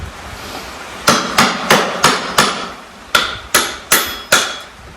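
A hammer drives a steel crowbar into a wooden pallet during teardown, landing nine sharp, close metallic strikes in two bursts of five and four, each ringing briefly before the next.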